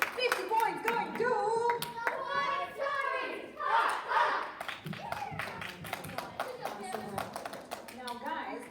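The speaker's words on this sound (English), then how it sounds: "Let's give Cameron a big round of applause, guys." A crowd claps and cheers for a kid named Cameron after a game round, loud scattered clapping with shouts and voices mixed through it.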